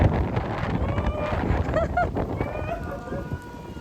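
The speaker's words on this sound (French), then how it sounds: "il pleut tellement, regardez" Heavy rain pours in a dense, steady hiss close by in Australia, with some faint tonal sounds and a brief voice-like murmur underneath.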